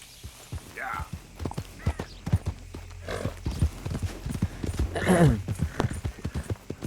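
Hooves clip-clop at a steady walking rhythm in Red Dead Redemption 2 with a horse whinny midway, under a talking voice and game-like background sound.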